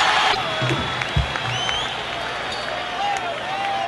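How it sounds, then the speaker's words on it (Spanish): A concert crowd at a salsa show applauds with a loud opening burst of clapping and cheering that thins into scattered claps, whistles and crowd murmur. "Y ahora, un fuerte aplauso para el único, el tremendísimo"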